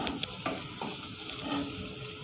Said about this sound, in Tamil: இந்த ஸ்டேஜில் நம்ம பூண்டு இடித்து வச்ச பூண்டையும் போட்டுக்கலாம்